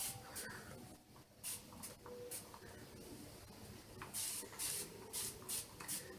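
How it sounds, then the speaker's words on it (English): Short, quick hisses of water sprayed from a hair spray bottle come in repeated bursts, some in fast runs, quiet and close. "So you have to be careful when you spray it."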